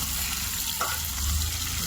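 Fish frying in hot oil in a home kitchen pan gives a steady, close hiss and crackle that holds for the whole short stretch, with no voices.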